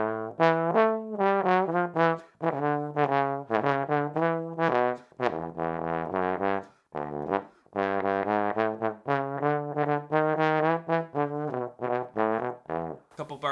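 A theme plays as a grooving melodic line in a run of sustained, rich-toned notes with short gaps between phrases, moderately loud and without talk.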